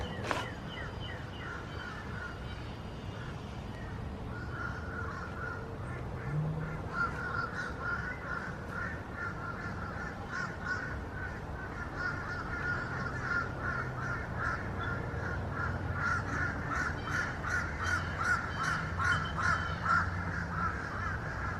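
Crows caw repeatedly outdoors during lawn mower blade work, a series of harsh rasping calls in irregular bursts over a low background rumble, moderately close and building in activity toward the end, with no talking.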